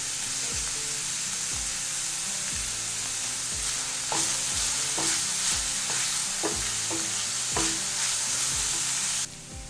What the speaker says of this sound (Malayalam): ഒരു 3-4 മിനിറ്റ് ഇത് വഴറ്റണം കേട്ടോ.